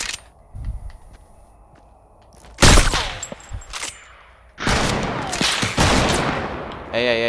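Bursts of video game gunfire in a shooter, a loud volley partway through and longer sustained rattling fire near the end, with someone talking excitedly between shots.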